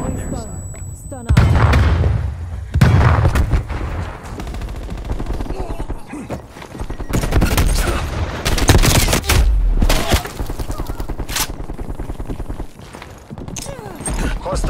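Gunfire and explosions from Call of Duty Black Ops Cold War multiplayer, with a frag grenade thrown among dense bursts of shots and booms at loud, uneven intervals.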